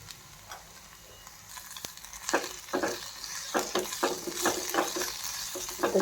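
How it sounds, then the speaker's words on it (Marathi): A spoon stirs a spiced potato filling with turmeric, red chilli powder, green chilli and garam masala in a pan, giving repeated scraping and soft sizzling strokes that grow louder and more frequent, with no talking. "तर छान आपल्याला मिक्स करून घ्यायचं आहे"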